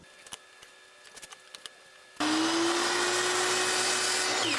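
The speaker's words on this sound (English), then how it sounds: "we're going to cut little notches on the end piece and the divider piece" A power tool bursts into a loud, steady whine as it cuts small notches into the end and divider pieces of a wood project, following a few faint taps and clicks of setup.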